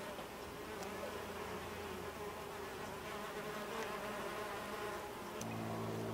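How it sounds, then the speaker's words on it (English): Mason bees buzz among garden blossoms near fruiting berry bushes, a faint continuous drone with wingbeats drifting closer and farther, no voices. "it looks like the mason bees have been doing a good job."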